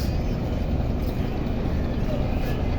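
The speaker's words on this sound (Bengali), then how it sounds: "এই হলো বরিশালের লঞ্চ" A passenger launch from Barishal at the Dhaka river terminal gives a continuous low engine rumble with a dense harbour din that holds steady throughout, loud and close.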